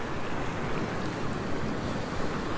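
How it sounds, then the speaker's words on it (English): Loud, continuous roar of surf with waves crashing on rocks at Currumbin Beach, Queensland, and gusty wind buffeting close by, a dense wash of water noise with no pauses. "So those waves that are crashing behind me, I'm getting soaked from them."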